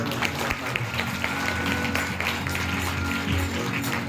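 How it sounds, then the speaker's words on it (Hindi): A church congregation at a Hindi prayer meeting claps hands together, a dense, steady patter filling the room with a low hum beneath and voices mixed in. "तारीफ करो, ताली बजाओ।"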